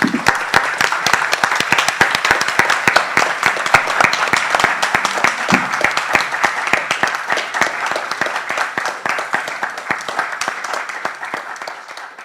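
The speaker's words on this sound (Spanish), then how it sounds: "aplaudamos esa obra y lo que podamos hacer con ella" An audience applauds at a tribute event, with dense, steady clapping from a full crowd. It is loud and close and carries on for about twelve seconds before it starts to thin toward the end, and no talking can be heard.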